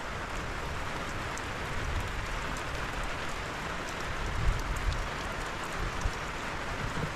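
Steady rain falls over a cool, misty mountain village, a dense even hiss with soft, scattered drops pattering closer by. No voices.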